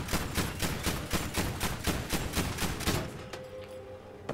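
Rapid automatic gunfire in Battlefield V, a fast even burst of about a dozen sharp shots over three seconds, then stopping with a fading echo.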